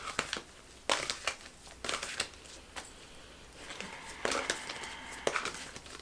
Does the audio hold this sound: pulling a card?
yes